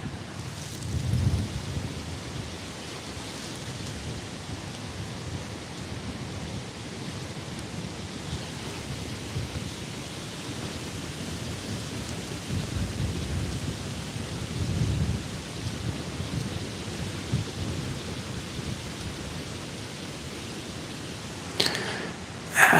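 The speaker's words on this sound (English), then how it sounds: "It's a lot windy." Strong wind blows outdoors during an autumn archery deer hunt, a continuous low, rushing roar buffeting the microphone with gusty swells and no voices.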